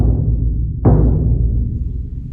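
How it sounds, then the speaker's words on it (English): A bass drum damped with a towel is struck once in the center, giving a punchy, articulate low thump that decays quickly. "Now I'm going to strike the drum in the center,"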